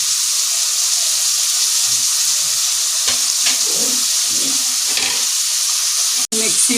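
Curry leaves and four chillies sizzle in hot oil for a duck curry while a spoon stirs them, a steady broad hiss with soft scraping strokes and a brief dropout near the end.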